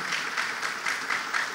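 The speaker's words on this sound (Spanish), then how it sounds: "Vamos a escucharlo con un aplauso a ustedes que están aquí." A church congregation claps for the singers, a short burst of steady crowd applause with a dense, even texture at moderate volume, no voices on top.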